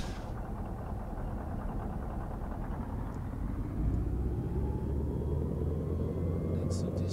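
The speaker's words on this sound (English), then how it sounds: "That's a diesel." A diesel truck engine in a trucking simulation game hums steadily with a low rumble that deepens and grows slightly louder partway through, while a voice talks over it.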